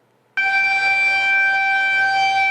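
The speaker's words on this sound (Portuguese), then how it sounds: "Quando a sirene da escola toca, é momento de alegria." A loud, steady electronic school siren blares continuously after a brief quiet start, a sustained high tone with no variation.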